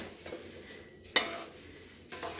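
Coconut being stirred in a hot kadai with a little oil: soft scraping and stirring with a single sharp metallic clink of the utensil against the pan, over a faint background hiss.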